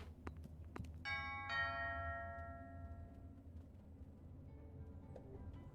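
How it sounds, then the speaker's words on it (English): A chiming doorbell rings in the video game Fall of Porcupine, one bright ringing tone with a quick strike and a slowly decaying tail over quiet background music. "Who could that be ringing my doorbell?"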